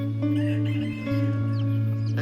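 Hens clucking in a coop beside newly hatched chicks, a steady close chorus of low clucks with soft chick peeps over a constant background hum.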